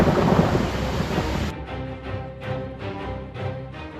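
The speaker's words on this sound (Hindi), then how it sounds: "पहाड़ों पर हो रही मूसलाधार बारिश" Torrential rain pours in the mountains with thunder, a loud broadband roar that cuts off abruptly and gives way to lower rumbling, steady rain-like pulses.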